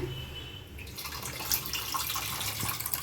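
Tamarind water poured into a pot of sankara fish curry, a continuous splashing, trickling pour heard up close with no talking.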